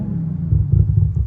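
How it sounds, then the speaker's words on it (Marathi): A car's exhaust in sport mode, a deep steady low rumble swelling slightly midway, close and loud with no talk. "आता तुम्हाला एक्झॉस्ट ऐकायचं असेल तर एक्झॉस्ट ऐकवतो मी"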